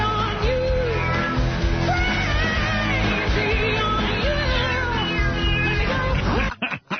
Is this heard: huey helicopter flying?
no